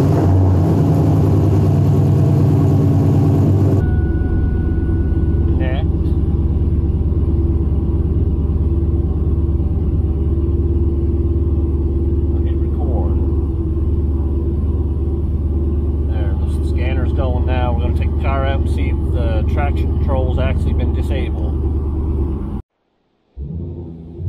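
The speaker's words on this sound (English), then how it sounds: "Okay, we'll start the car up." A 4th Gen F-body car engine starts after a brief crank, then settles into a steady, loud rumbling idle with a low hum, while faint chirps and beeps sound intermittently and a voice speaks briefly.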